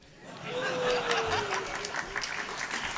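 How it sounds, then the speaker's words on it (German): Studio audience at a German talk show breaking into brief applause mixed with chatter and laughter, swelling quickly and then tapering off over a few seconds. "ihr müsst jetzt nicht immer klatschen, nur weil der Mann mal aufsteht"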